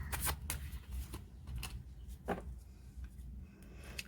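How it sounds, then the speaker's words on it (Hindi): Tarot cards are shuffled in quick riffling flicks and soft slaps, a steady rustling patter close by and faint, with no voices. "मैं फिर से शफल कर लेती हूँ।"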